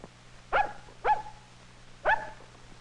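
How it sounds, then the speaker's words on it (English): A cartoon dog barks three times in short, evenly spaced woofs, fairly close and clear over a low steady background hum, with no talking. "The dog, said Hoppy."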